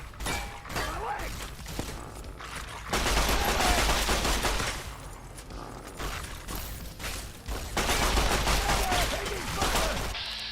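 Gunfire in the video game Old Vegas Blues, dense and sustained in two heavy bursts with mechanical clatter between them, with voices shouting throughout.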